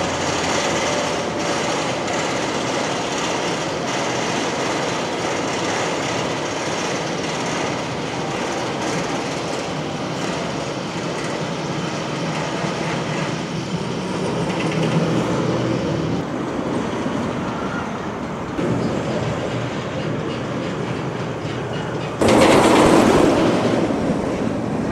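The ArieForce One roller coaster at Fun Spot Atlanta thunders along its track in a long, continuous rumbling rattle, with a sharper, louder roar near the end.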